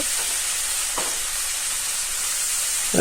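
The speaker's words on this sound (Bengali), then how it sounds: "এই দেখো নাড়াচাড়া হচ্ছে" Mutton with ginger, cumin and chili paste fries in a pan with a constant loud hiss and sizzle, with a few faint stirring scrapes close by and no speech.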